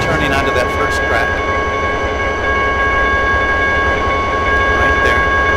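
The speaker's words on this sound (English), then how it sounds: "So let's pull this thing back to idle, and we're just going to coast into the yard here." Train rolling into a yard with the throttle at idle in the Trainz 2010 simulator, a steady rumble and hum of the locomotive and cars throughout, with faint clicks of the wheels and a person talking over it.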